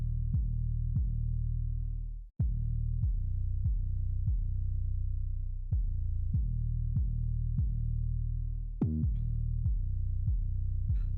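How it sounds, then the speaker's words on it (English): Cymatics 808 bass processed with Camel Crusher distortion in a dark trap beat, playing a steady pattern of loud, booming sub hits with gliding pitch drops and a brief pause midway, alone without voices. "once I did that, the 808 sounds like this"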